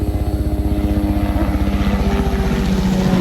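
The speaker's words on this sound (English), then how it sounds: "Helicopter. It's flying pretty low." A low-flying helicopter thuds overhead, loud and close, its rotor blades beating in a fast, steady pulse with a whining drone layered on top throughout.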